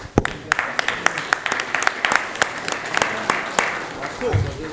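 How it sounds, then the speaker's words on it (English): Scattered audience clapping at a Calabar tech mixer community event, a loose, uneven patter of hands throughout with a voice speaking over it. "we have to clap for you guys again"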